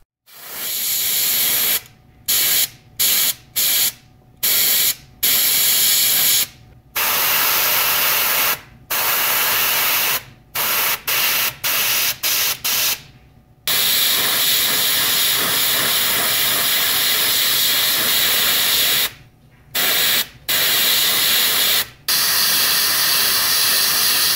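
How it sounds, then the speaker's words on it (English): An airbrush sprays paint onto a wooden saltwater popper lure in a loud, close hiss, first in many short bursts with brief gaps, then in one long continuous spray, then a few more bursts. "my airbrush was acting up terribly"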